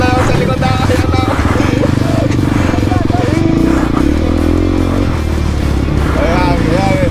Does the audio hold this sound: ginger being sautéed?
no